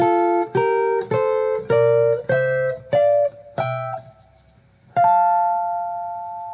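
A guitar plucks a rising sequence of two-note chords, evenly spaced, each ringing briefly before the next, ending on a longer sustained chord.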